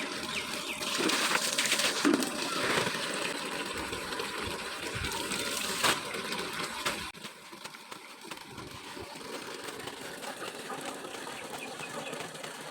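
Clothes are washed by hand with water, giving an irregular mix of splashing, sloshing and wet rubbing close by, louder in the first half and quieter later.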